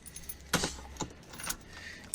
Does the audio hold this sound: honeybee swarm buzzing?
no